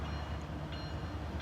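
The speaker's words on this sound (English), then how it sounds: "I filmed a train going across that bridge" Train rolling across a bridge near Yuma, a steady low rumble of wagons heard from a distance with no horn or talk.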